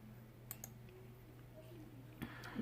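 A couple of soft mouse clicks in Cricut design software, selecting the Make It button, small and close over a faint steady hum.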